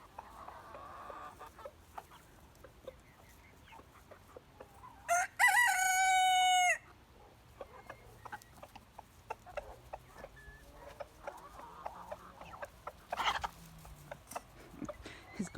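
A backyard flock of chickens with chicks and pullets clucks and murmurs softly throughout, broken by a loud rooster crow midway and scattered pecking and scratching noises close by.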